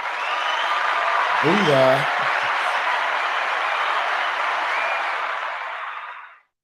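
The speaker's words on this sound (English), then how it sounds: "Let me see if we got a round of applause on here on the board" A canned round of applause plays from a soundboard, a steady wash of clapping that runs for several seconds and then cuts off abruptly. A voice calls out briefly over it.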